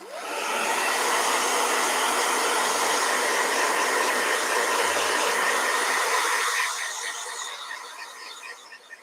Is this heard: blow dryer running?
yes